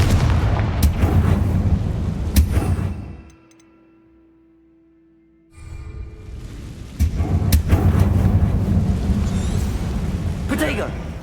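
Confringo blasting spell explosions in the Hogwarts Legacy video game, loud booming blasts and rumble filling the scene, dropping to near silence for about two seconds before another heavy burst of blasts returns.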